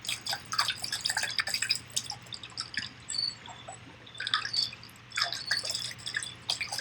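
Rapid water drips patter in irregular bursts, pausing briefly between clusters, over a low steady hum.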